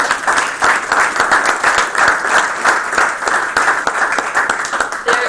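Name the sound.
audience applause at board meeting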